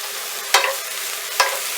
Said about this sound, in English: Give it another quick stir.